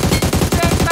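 An AUG assault rifle fires in PUBG Mobile: a rapid, loud burst of about seven evenly spaced automatic shots packed into under a second, close and punchy, with no voice over it.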